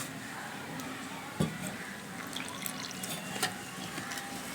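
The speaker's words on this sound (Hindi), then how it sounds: "अब हम इसमें पानी शामिल कर देंगे" Water is poured into a bowl of flour dough already mixed with salt and ghee for homemade samosa pastry sheets, making a quiet trickle with one brief splash partway through and no talking.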